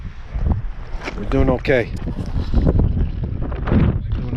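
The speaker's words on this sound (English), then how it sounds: "It's getting windy out here though" Wind gusts buffet the microphone outdoors on an ice-fishing trip, a steady low rumble running beneath close conversation throughout.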